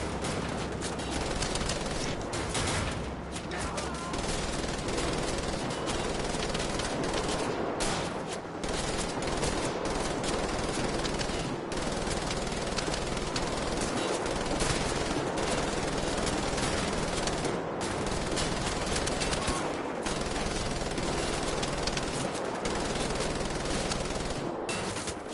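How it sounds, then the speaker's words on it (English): Sustained rattling automatic gunfire from the video game Wolfenstein: The Old Blood, loud and continuous with dense overlapping bursts and no voices over it. "Oh, hear a gunshot."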